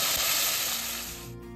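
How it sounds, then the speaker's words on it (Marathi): Raw peanuts and garlic frying in a pan, a dense steady sizzle with a fine hiss that thins out toward the end, close and alone. "आता शेंगदाणे, त्याच्यानंतर असे कच्चे शेंगदाणे थोडेसे टाकायचे आणि याला चांगलं फ्राय करून घ्यायचं"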